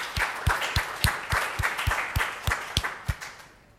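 A small audience claps after a talk, a handful of loud, close hand claps in an uneven rhythm over a thinner patter, fading out at the end.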